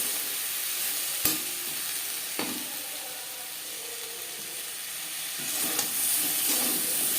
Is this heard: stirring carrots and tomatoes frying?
yes